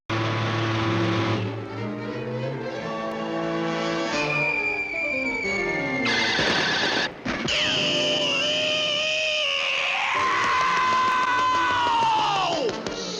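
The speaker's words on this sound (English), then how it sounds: "it was a great Mel Blanc scream" Looney Tunes cartoon cat scream voiced by Mel Blanc, a loud wavering yowl that rises and bends in pitch over a busy cartoon soundtrack with music and sound effects.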